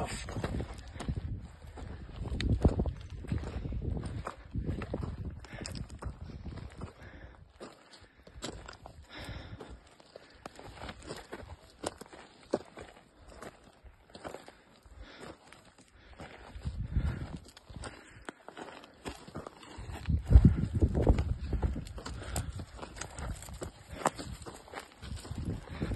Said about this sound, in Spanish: es el típico crujir de matorrales con arbustos y con árboles